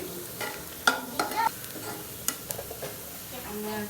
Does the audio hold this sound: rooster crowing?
no